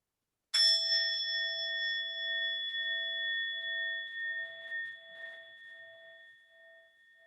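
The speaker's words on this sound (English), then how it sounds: "And we'll have one sound of the bell." A single bell strike rings out clearly, its bright metallic tone sustaining and slowly fading in an otherwise silent space.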